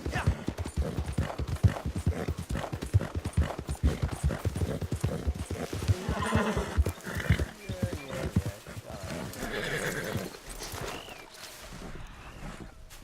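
A horse gallops in the video game Red Dead Online, with rapid rhythmic hoofbeats driving through most of the passage, a few neighing or snorting sounds mid-way, and the hooves thinning out toward the end.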